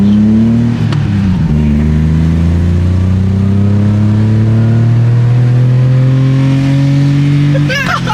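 A Nissan 350Z drift car engine revs hard through a sustained pull, its loud, close tone climbing steadily in pitch for several seconds before a brief lift, with a voice speaking over it.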